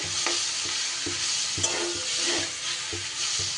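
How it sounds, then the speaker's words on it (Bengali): Radish greens fried with ground pea lentil paste on a low gas flame give a steady soft sizzle, with regular scraping stirs of a spatula in the pan, close and alone. "গ্যাসটা কমিয়ে দিয়ে এবার এইভাবে ভেজে নিতে হবে"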